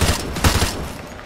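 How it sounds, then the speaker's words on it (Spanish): Explosions in a video game, heard as a loud cluster of booming blasts that come in quick succession and then trail off into a rumbling tail. "Esas explosiones atraerán mucha atención."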